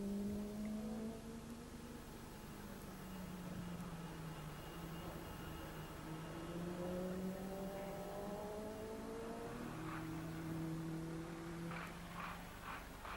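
Small banger racing cars at a 1994 banger world cup event drone by at a distance, engines rising and falling in overlapping whining tones, faint and steady with no talk.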